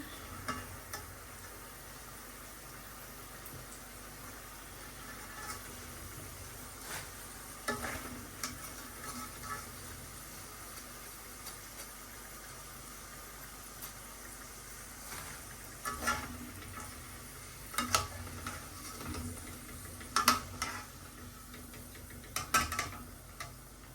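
Fish fries in a pan with a faint, steady sizzle, broken by scattered clicks and sharp scrapes as it is stirred and turned, quiet overall and with no talking.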